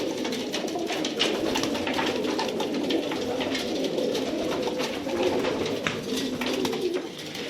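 Tumbler pigeons cooing in a loft, a dense overlapping chorus of soft throaty coos from many birds, steady and close, with light fluttering and background noise.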